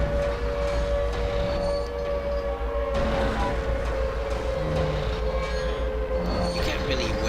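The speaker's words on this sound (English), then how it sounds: "Yeah, the siren's calling him away." Droning siren from the video game Silent Hill 2, a steady wailing tone held over a dense, grinding industrial rumble that fills the whole stretch, loud and continuous with no pauses.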